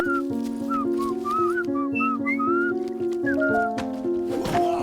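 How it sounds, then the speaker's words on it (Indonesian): A cartoon creature whistles a bright, melodic, trilling, wandering tune over steady background music, with short pauses between phrases. "Saat berjalan di hutan, Finn dan Jake bertemu dengan makhluk aneh yang suka bersiul."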